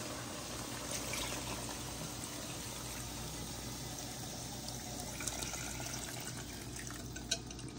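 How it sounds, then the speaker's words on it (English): Hot water pours into a pot of tilapia fish broth cooked bush style, a faint steady trickling and gurgle of liquid with a few small clinks, no talk. "Let me get hot water now."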